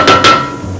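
A single hammer blow in a demonstration about glass and why it breaks, heard as two close sharp strikes with a ringing tone that fades quickly in a quiet room.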